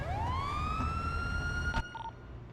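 A police car siren sweeps upward into a sustained wail, then cuts off and is followed by two short electronic tones, heard at a moderate distance over low background rumble.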